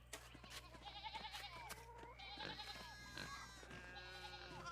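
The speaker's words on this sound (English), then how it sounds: "Can't go that way because of the sheep" Sheep bleating in the medieval adventure game Pentiment, several overlapping bleats in a pastoral scene over a low steady hum and light ambient sound.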